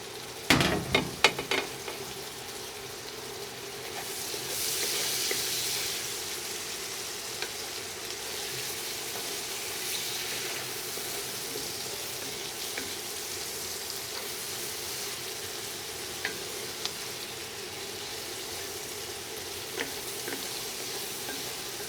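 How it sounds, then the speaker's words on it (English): A St Patrick's Day dinner sizzles steadily in a pan while being stirred, with a brief clatter of the utensil early on, then a constant close frying hiss with occasional soft scrapes. "Give her another stir."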